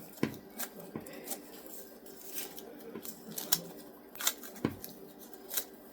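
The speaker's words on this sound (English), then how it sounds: "we're just going to cut little pieces" Scissors snip small pieces of craft material in a quiet indoor room, producing a handful of short, crisp cuts at irregular intervals with faint background noise between them.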